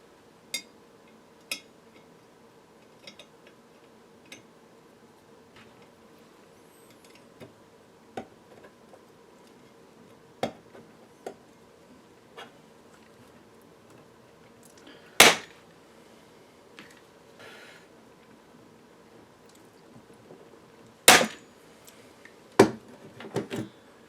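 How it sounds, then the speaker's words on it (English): A rivet gun sets rivets on a 1924 Radiola UZ 1325 horn speaker, giving sparse sharp clicks and snaps spread out over a quiet background, with a couple of louder cracks near the end. "This time I'm going to be a little more careful with that rivet gun."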